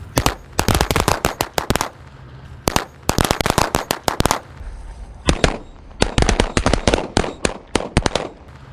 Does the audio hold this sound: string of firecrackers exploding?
yes